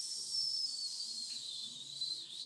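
A steady, high hissing, whistling breath during a guided death meditation, faint and airy with a thin whistle riding on top, continuous and alone.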